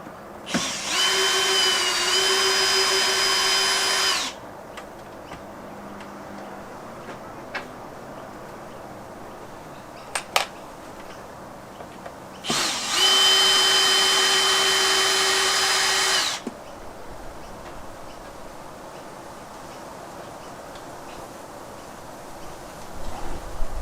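A power driver backs screws out of a Fender Blues Jr amp cabinet in two loud whirring bursts of about four seconds each, with small clicks and handling noises in the quiet gap between them.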